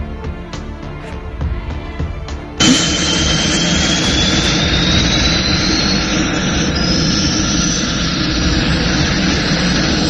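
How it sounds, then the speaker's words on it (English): Fighter jet engines spool up at an airbase, shifting from a rattling idle into a loud, steady roar with a rising whine that holds for several seconds as the aircraft begin to taxi. "The fighter pilots climbed into their cockpits, strapped in, and started their engines."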